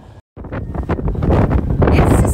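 Gusty wind during a Saskatchewan blizzard buffets the microphone in rough, loud bursts, a blustery rumbling roar that barely lets up.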